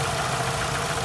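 A 2003 Daewoo Lanos SX car engine idling smoothly, a steady even hum with a low pulsing rumble, close and unbroken.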